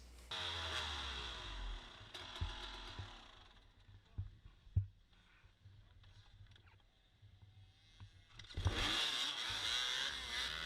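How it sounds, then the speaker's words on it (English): Off-road dirt bikes rev on the start line of a hare scramble race. One bike starts on the first kick and its engine rises loud and close near the end, with other engines droning around it. "Bike started up first kick."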